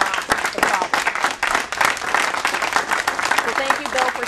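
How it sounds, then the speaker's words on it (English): A studio audience at a town hall breaks into steady, enthusiastic applause, a dense wash of many hands clapping close by and holding strong throughout. A voice is faintly audible beneath it. "Thank you, audience, for clapping."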